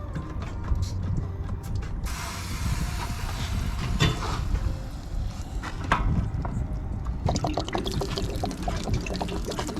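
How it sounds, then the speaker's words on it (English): Water draining from the drain port of an RV water heater during winterization, a steady gushing pour with intermittent mechanical clicks and ratcheting clanks over it, no voices. "just let the water out of the water heater"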